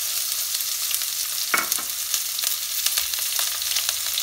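Chopped onions and green chilies fry in mustard oil with cumin, sizzling steadily and up close, broken by a few scrape-and-stir clicks of a spoon in the pan.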